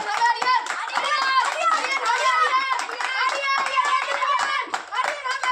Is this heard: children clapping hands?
yes